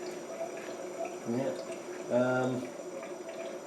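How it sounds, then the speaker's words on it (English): A smoke tester bubbles steadily on a Land Rover Discovery 2, giving a low, continuous gurgle under two short bursts of a voice. "today I'm using the smoke tester, as you can hear, and it is bubbling away like crazy"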